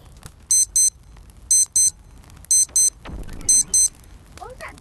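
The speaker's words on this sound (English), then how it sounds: "What was that beep sound?" In the video game Animal Company, a bright electronic beep sounds in paired pulses, four double-beeps at a steady rhythm, over faint background noise and rustling.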